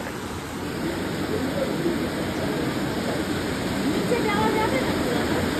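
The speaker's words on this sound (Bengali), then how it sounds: "বিভৎস বৃষ্টি পড়ছে, নিচ দিয়ে জল ঢাকা নদী যাচ্ছে।" Heavy monsoon rain pours in the Dooars above a river, a dense, steady roaring hiss that holds unbroken and fairly loud throughout.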